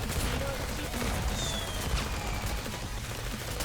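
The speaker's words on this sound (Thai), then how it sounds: "เดี๋ยวเรายิง เครื่องยิงพี่ไซายก่อนนะครับ" Gunfire rings out in the video game Goddess of Victory as dense, overlapping volleys of shots, with a constant wash of battle noise and some faint voice mixed in.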